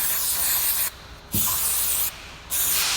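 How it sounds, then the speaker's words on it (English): Brake cleaner sprayed from an aerosol can onto disassembled hydraulic cylinder parts in a workshop, two long close hissing bursts separated by short pauses, with a faint clink of a part between them. "We'll clean this up a little with brake cleaner."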